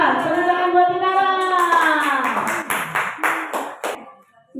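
Scattered, uneven hand claps in a classroom during an open-class lesson, rising after a child's sustained, sing-song voice and continuing briefly beneath it before trailing off.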